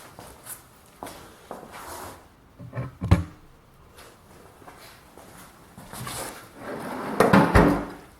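Drawers of a mechanic's tool cabinet slide open and shut several times, with sharp knocks and rolling scrapes spaced irregularly, close by, with no talk.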